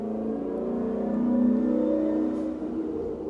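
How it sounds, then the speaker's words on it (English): A car drives loudly up a residential street, its engine a steady, fairly close revving hum that swells slightly and then fades over a few seconds. "that was someone driving up my street very loudly"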